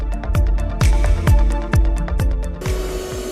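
An Erabros LS1 robot vacuum runs at its highest suction over scattered cereal, its steady motor hum broken by a quick, irregular series of sharp clattering pops as pieces get pulled in, close and fairly loud.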